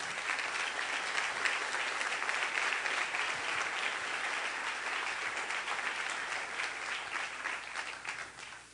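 A church congregation breaks into steady, full applause during a Sunday service, many hands clapping in a continuous dense wash that holds for over eight seconds before easing off at the close.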